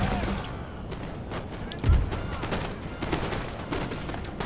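Musket volley gunfire in the Empire Total War video game, a heavy thumping blast amid a continuous crackle of distant battle shots and game noise, with a voice talking over it.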